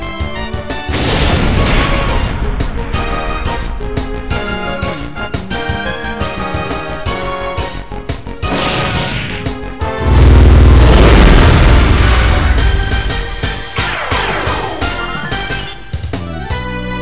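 Loud explosion blasts in the PlayStation game Wild Arms 2, booming over busy game music with a heavy, sustained low-end burst near the middle and repeated crashing hits throughout.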